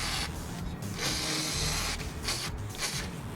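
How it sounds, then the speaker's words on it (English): WD-40 is sprayed onto the rubber exhaust hangers under a BRZ/FRS/GT86 during an exhaust swap, giving several close, hissing aerosol bursts of uneven length with short breaks between them. "this hangers for the exhaust, you gotta spray them with the WD-40"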